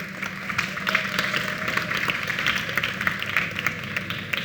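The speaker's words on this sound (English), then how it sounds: "Could we have a big round of applause for Rabih?" An audience applauds to welcome Rabih Fakhreddine onto a Lebanese talk stage: a steady wash of clapping with sharper individual claps sprinkled through, moderately loud and continuous for several seconds.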